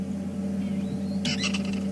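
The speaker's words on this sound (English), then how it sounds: "You can hear the squeak of the parrots." Parrots squeak as they fly over an African game drive, a brief burst of high, scratchy calls arriving near the end over a steady low engine hum.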